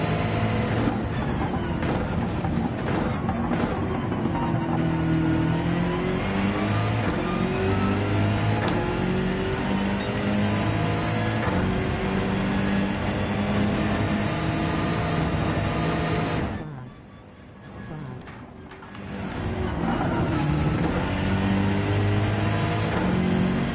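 A BMW race car in Gran Turismo 7 at full throttle, its engine roaring loud and steady with rising and falling revs through gear changes, easing off briefly into a quieter dip before surging back to full power.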